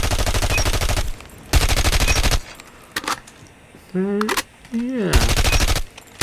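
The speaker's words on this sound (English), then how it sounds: "definitely a versatile SMG that I'd highly recommend checking out." RUS-79U submachine gun bursts from a video game, two loud sustained rapid-fire volleys separated by pauses, followed by game effects and a brief spoken word.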